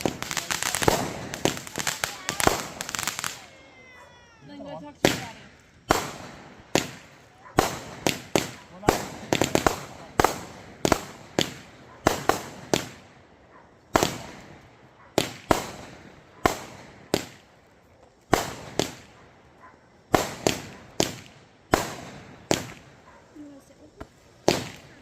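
Fourth of July backyard fireworks show at its grand finale: a dense crackling burst, then a long run of separate loud booming bangs every second or so, close and echoing, with people talking during the opening.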